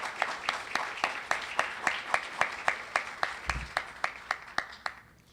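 An audience at a round-table legal panel claps steadily, a dense run of bright, regular hand claps heard close and moderately loud, fading out at the end with no voices over it.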